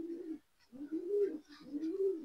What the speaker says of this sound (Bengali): দুর্দান্ত কবুতর গুলো